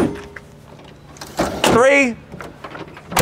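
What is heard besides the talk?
Ford tailgate step on Roush F-150 being deployed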